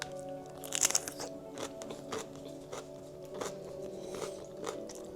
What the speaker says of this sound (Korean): 배추전 해먹고 남은 배추를 오늘은 쌈으로 먹는다.